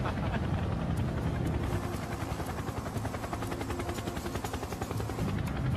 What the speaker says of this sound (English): The Chinook proceeds at low level across the Antrim Hills.